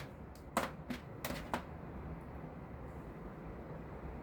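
Bolts being fastened with lock washers and nuts during reassembly, a handful of sharp metallic clicks and clinks in an irregular burst over low background noise, close by, with no talk.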